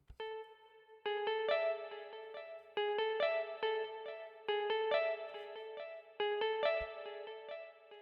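A jazz guitar loop sample, the same two bars repeating, plays clean sustained chords with reverb and delay, steady and moderately loud, with no talking over it.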